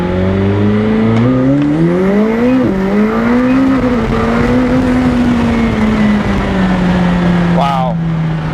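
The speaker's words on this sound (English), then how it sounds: "See if we can give it a little first gear roll here." A McLaren 720S engine climbs steadily in pitch as it accelerates hard in first gear, with brief shifts in tone and a continuous roar throughout.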